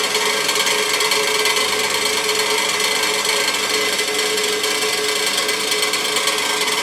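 A bandsaw runs steadily through a cut, giving a continuous bright, dense grinding hiss that holds the same level without a break, close up and with no voices.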